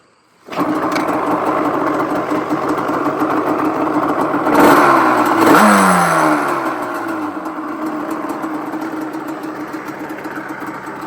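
A cold Yamaha Banshee two-stroke ATV engine on choke starts abruptly and settles into a buzzy, rattling idle, then revs up and drops back with a few sharp throttle blips before idling on, loud and close.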